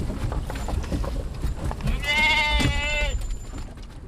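Sheep bleat inside a Chrysler minivan, one clear wavering bleat rising over a busy rumble of movement and shuffling in the cramped vehicle.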